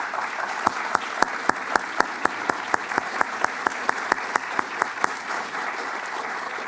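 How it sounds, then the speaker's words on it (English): An audience applauds at a lecture hall event, a broad continuous wash of many hands with one sharper, rhythmic nearby clapper standing out, steady for several seconds. "Please give a hearty applause to"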